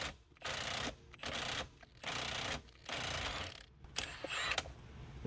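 An impact wrench rattles on the steering wheel bolt of a Hyundai Tucson during clock spring replacement, firing several loud, close, buzzing bursts separated by short gaps.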